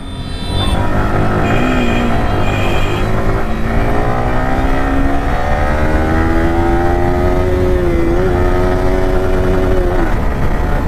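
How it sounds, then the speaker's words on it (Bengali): A new 2024 Yamaha R15M motorcycle runs under way, its engine a loud, continuous close drone whose pitch climbs steadily and wavers slightly, with no talk over it. "স্মুথ মানে নতুন বাইক স্মুথ তো হবেই।"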